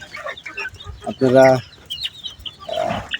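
Native deshi chickens on a farm give a short, loud, tonal cluck in the middle, with scattered softer clucks around it, while a person talks nearby.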